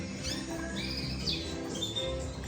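Small birds in a breeding aviary with flight cages chirp and tweet busily, many high calls overlapping above a steady background hum.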